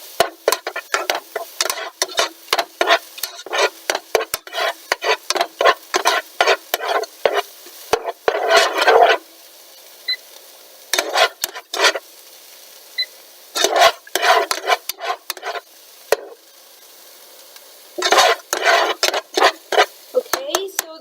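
Chopped onions soften in a hot pan, with a repeated scraping and stirring rhythm over a faint sizzle, close and fairly loud, in bursts with short pauses.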